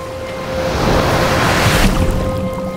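Ocean waves roll onto a surfing beach in a steady, loud wash of surf that swells and breaks close by, with a faint steady tone underneath and no voices.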